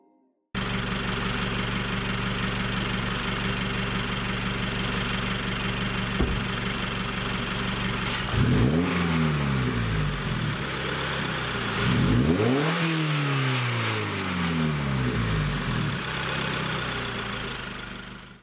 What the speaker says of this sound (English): So let's hear the stock intake before we get started so you guys have a little example.